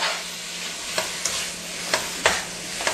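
Chicken pieces seasoned with onion and garlic powder sauté in a pan for a creamy curry, with a steady sizzle broken by a few sharp spatula scrapes and clacks, close up.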